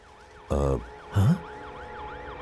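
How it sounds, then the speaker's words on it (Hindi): Ambulance siren in a Hindi-dubbed South Indian action film, a faint wailing tone rising and falling steadily in the background while two brief loud voices cut in over it. "यहाँ पर एम्बुलेंस आ गई है।"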